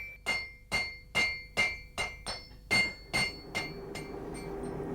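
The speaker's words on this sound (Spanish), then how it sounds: "Jesús consigue la forma definitiva de la punta de la púa golpeando el hierro con el martillo." A hand hammer strikes red-hot iron while shaping the tine point of a handmade agricultural laya, a farm digging fork. About ten ringing, metallic blows land at an even, deliberate pace, close and clear, then fade into a low hum.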